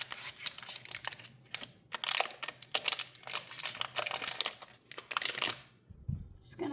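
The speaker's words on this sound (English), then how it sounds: "So I'm going to just unwrap the 6 tablespoons of butter." Six tablespoons of butter being unwrapped from its wrapper in a home kitchen, close crinkling and crackling of paper in irregular bursts, with a soft thud near the end and no talk.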